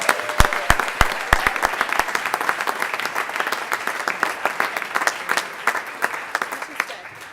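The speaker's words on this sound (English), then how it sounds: "And again, another round of applause for all of our competitors today." At a college business competition, an audience claps for the competitors, beginning with a few sharp, distinct claps that soon thicken into a steady round of applause, fairly close and moderately loud.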